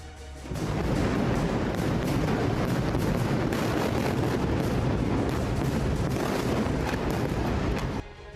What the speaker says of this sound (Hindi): भीषण बमबारी से हिजबुल्लाह दहला।